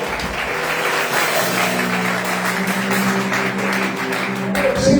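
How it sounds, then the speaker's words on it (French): A church congregation at a worship service claps and cheers in a steady, dense wash of applause, with a sustained sung or held vocal tone running underneath throughout. "il faut acclamer bien"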